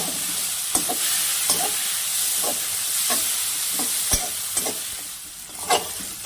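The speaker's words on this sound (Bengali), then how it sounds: "এবার আমি পেঁয়াজ আর কাঁচা লঙ্কাটাকে একটু লাল করে ভেজে নিব" Onion and slit green chillies fry in a pan with a steady hiss, while a spatula scrapes and clicks against the metal in sharp irregular taps as they are stirred.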